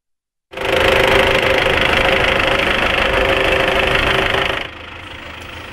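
A driverless autonomous tractor plows a field near Kamensk-Uralsky, its engine starting abruptly into a loud, steady, buzzing drone that holds evenly before dropping to a quieter idle-like hum near the end.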